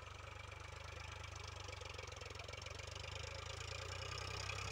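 An Eicher 551 tractor engine runs steadily at 1500 RPM, a loud, continuous close-up diesel chug with an even low throb that holds constant throughout, no voices.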